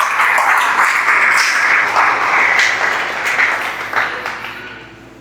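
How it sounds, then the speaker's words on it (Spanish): Church congregation applauding, a broad steady clatter of many hands that stays fairly loud for several seconds, then thins and fades slightly toward the end. "Dale un aplauso si puedes dárselo."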